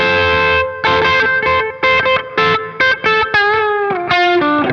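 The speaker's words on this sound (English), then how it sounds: "I wanted to have a slightly longer tail and maybe a little bit more of reverb as well." Distorted, effects-laden guitar chords through a KMA Audio Machines Cirrus reverb pedal strike in bursts, with notes ringing out and decaying into a lingering wash between hits.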